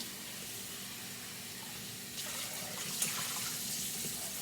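Water runs steadily from a tap into a sink over potatoes being rinsed of starch, splashing a little louder partway through, with a low background hum.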